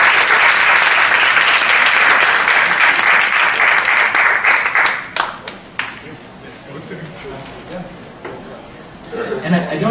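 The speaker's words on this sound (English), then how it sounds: "So I want to give a big round of applause to our speakers." An audience at a Harvard panel event on food security applauds the speakers, a dense loud burst of clapping for about five seconds that thins to scattered claps and murmuring chatter.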